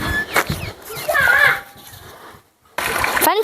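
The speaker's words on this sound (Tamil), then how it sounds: "தண்ணி வந்தாச்சு பாருங்க ஃப்ரெண்ட்ஸ், தண்ணி உள்ளே போகுது." Water splashes and pours into an enclosure holding four ducklings at home, with broadband splashing in bursts, a pause, then resuming, while children's voices sound over it.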